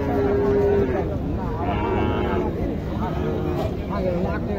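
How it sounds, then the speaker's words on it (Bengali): A small Sahiwal cross calf moos at a crowded cattle market in Naogaon, its drawn-out calls rising above a constant babble of voices and livestock noise nearby. "এইখানে একটি ছোট্ট গরু আছে দেখেন, ক্রসের সাথে শাহিওয়ালের সাথে ক্রস আর কি।"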